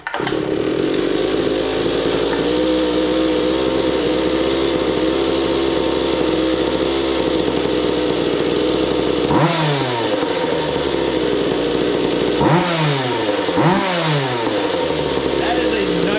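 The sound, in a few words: Goped scooter engine starting and revving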